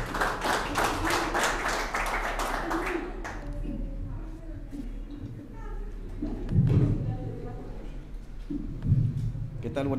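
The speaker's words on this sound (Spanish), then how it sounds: "fuerte el aplauso para él" An audience applauding a speaker at the opening of a cooperative's new branch office in Cobán, a dense burst of clapping that fades within a few seconds, followed by scattered thumps and quieter room noise.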